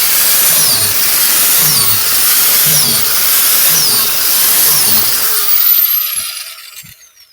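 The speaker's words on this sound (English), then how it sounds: "This is what I'm looking for being able to drill these holes." A power drill bores holes into a log for mushroom inoculation, a loud steady high whine with a rhythmic pulsing as the bit cuts, winding down and falling quiet near the end.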